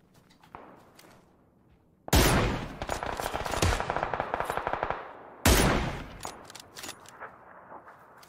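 Automatic gunfire in the video game PUBG, two loud, sustained bursts of rapid shots with a few quieter single shots and thumps between them.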